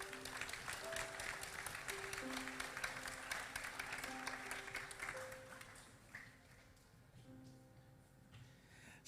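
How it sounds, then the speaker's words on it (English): Steady applause from an audience at a school academic awards assembly for Year 8 students, sustained clapping that tapers off toward the end, with background music tones running beneath. "A round of applause for our Year 8s."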